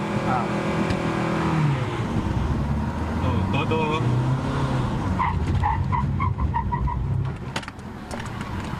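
A Mitsubishi Montero Sport brakes hard with its engine running, tires squealing in a series of short chirps while the vehicle shudders, with people talking over it.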